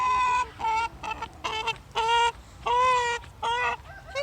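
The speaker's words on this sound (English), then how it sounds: "Good morning, chicken." Chickens cluck and squawk in a series of loud, close, drawn-out calls separated by short pauses.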